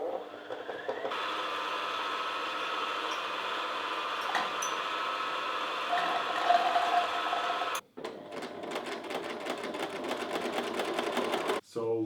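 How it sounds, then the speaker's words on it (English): A sewing machine stitches pant legs together in a steady, fast whirring hum, pausing briefly twice and then starting again at a slightly different pitch. No one speaks over it. "So now I'm gonna pin back the legs together and close them with the sewing machine."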